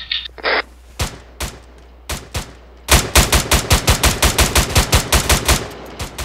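Gunfire in the Arma 3 military shooter: a few spaced single shots, then a rapid, loud burst of automatic fire with sharp, evenly repeating cracks, close and without talk.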